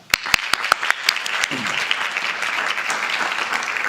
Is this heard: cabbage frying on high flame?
no